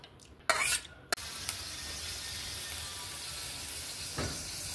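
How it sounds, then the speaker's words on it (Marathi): Fenugreek leaves cooking in a pan over a low flame, a quick clatter of a spoon against the pan, then a steady soft sizzle that carries on evenly. "मंद गॅसवरती आपण मेथी शिजवून घेणार आहोत।"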